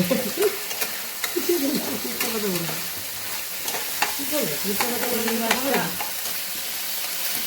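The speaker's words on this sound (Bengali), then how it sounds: "আর একটু ভাজা হোক।" Food frying in a home kitchen pan, a continuous close sizzle broken by scraping stirs and faint voices murmuring underneath.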